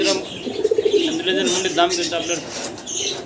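Pigeons kept with their young coo softly at close range in a short burst of throaty calls, with voices talking over them.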